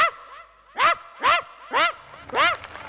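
A performer at a comedy stage show imitates a poor household's dog barking, giving four evenly spaced, clear bark-like yelps, close and loud, after a soft opening whine.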